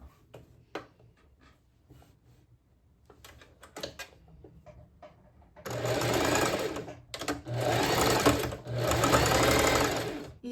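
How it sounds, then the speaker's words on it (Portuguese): A sewing machine stitches the hem of a wave-style curtain in loud whirring runs broken by short pauses, after several seconds of quiet fabric handling. "Eu vou alinhar certinho e vou passar uma costurinha bem aqui,"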